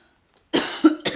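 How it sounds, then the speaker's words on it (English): A short, rough throat clearing follows a moment of silence, two or three harsh bursts close to the mic. "I need to clear my throat."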